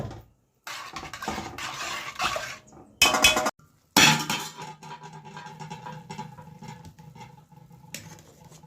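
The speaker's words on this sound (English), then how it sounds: "So I got add a little of the oxtail gravy to it, right? Like this." A metal spoon scraping and clinking against a pot while oxtail gravy is ladled in, bursts of clattering and tapping separated by short pauses, close and fairly loud.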